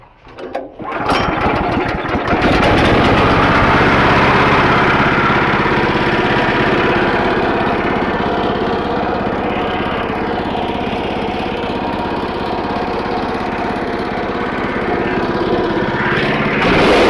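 A sawmill engine drives the blade through a fallen silver maple log with a fairly dull blade. A steady, loud engine drone holds through the whole cut after a brief rising start.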